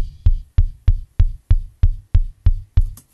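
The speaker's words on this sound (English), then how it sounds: "So start off with the kick drum, which sounds like this." Kick drum processed with a noise gate, compressor and graphic EQ in BandLab mixing software, playing nine evenly spaced punchy hits with a steady rhythm, loud and isolated with no talking.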